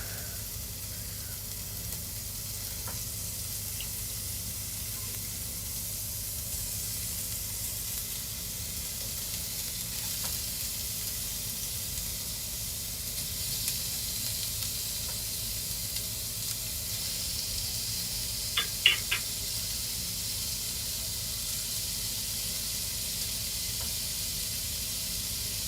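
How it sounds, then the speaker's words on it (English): Steady, continuous sizzling of beef mince frying in a pan, a constant crackling hiss with a few brief clinks of a utensil partway through. "can you hear that sizzle?"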